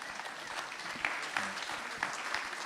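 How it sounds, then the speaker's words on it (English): Audience applause at a 2025 Palmerston North City Council mayoral candidate debate: steady, moderately distant clapping across the room with a few sharper claps standing out, running throughout without talk. "We'll give them a round of applause."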